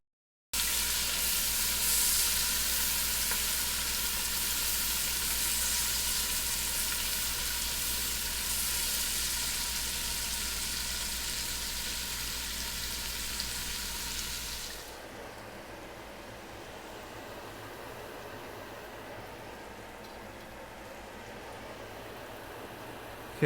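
Loud, steady sizzling of green peppers sautéing in a pan for Southern-style BBQ beans with bacon, dropping to a softer, quieter fry partway through, with no talking.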